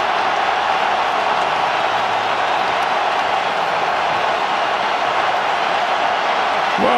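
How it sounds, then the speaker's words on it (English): Rugby crowd in France v England Six Nations match roaring after a French try, a dense, loud, sustained wall of cheering that swells slightly at the end. "Well, the crowd have rightly got into raptures."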